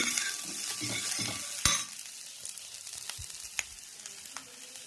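Tempering for sambar sizzles and fries steadily in a pan as it is stirred, with occasional spoon scrapes and clinks over a constant hiss.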